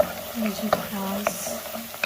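Onions frying in a pan turning light pink, a low steady sizzle with a few spoon scrapes and taps from stirring, close up over a short stretch.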